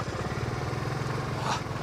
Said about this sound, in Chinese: 摩托车不错啊